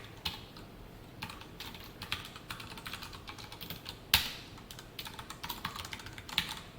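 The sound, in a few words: typing Java code on a computer keyboard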